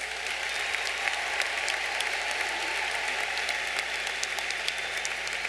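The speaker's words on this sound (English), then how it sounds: "Let's give these graduates a round of applause." Audience at a university commencement applauding graduates, a dense, even wash of many hands clapping in a large hall, sustained throughout with no voices over it.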